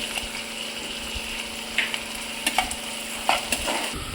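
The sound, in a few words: onion frying in a pan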